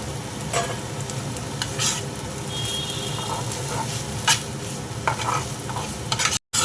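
Soybean chunks frying in a pan in a vegetarian dish, a continuous close sizzle with intermittent spatula scrapes and stirring clicks, no talk, cutting off abruptly near the end.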